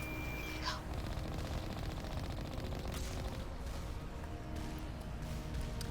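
Turrets in Mass Effect Legendary Edition fire rapid bursts of gunfire, a quiet, continuous rattling in the background of the battle with no talk.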